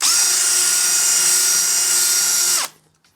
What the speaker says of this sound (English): Now I also like to just finish it off with a little countersink, and it enables the screw just to sit a little bit deeper in the track